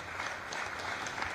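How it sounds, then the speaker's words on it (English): Brief burst of audience applause for the chairperson at an opposition political launch event in Kenya, a moderately loud crowd clapping steadily through the whole moment, no voices over it. "Another round of applause for the chairperson."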